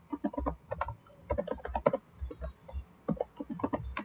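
Keys on a computer keyboard are typed in bursts while entering network switch configuration commands, with clustered clicks and short pauses, close and distinct, with no voices.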